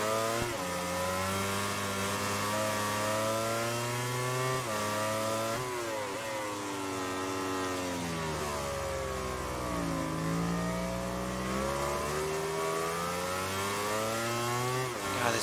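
A motorcycle engine in the MotoGP 17 racing game screams continuously through rising and falling revs as the bike accelerates and shifts gears, loud and close throughout.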